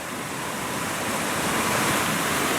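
Water rushing steadily through an old grist mill trough that once fed a water wheel, a loud, dense, unbroken wash that swells slightly toward the end, with no voices over it.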